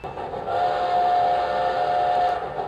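A model train whistle on a mini golf course sounds one sustained, steady tone for about two seconds, fairly close and clear, with no talking over it.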